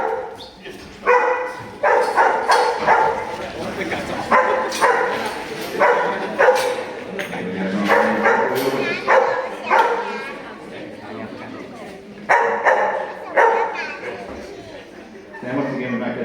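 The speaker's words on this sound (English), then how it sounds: "Now Albert's quite noisy, so we get the sheep moving nice and fast." A sheepdog herding sheep at a farm show barks repeatedly in loud, close bursts, with some yips and whimpers, while someone talks under and between the barks.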